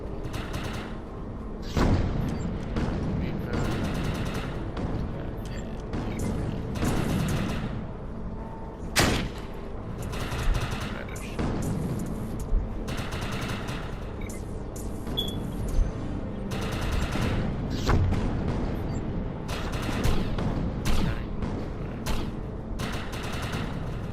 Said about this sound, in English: So I have to kill the snipers.